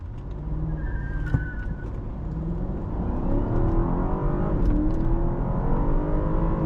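A 2017 BMW G12 750i launching from the brake and accelerating hard, heard from inside the cabin: a deep engine roar builds steadily in pitch and loudness after a brief click, with no talking.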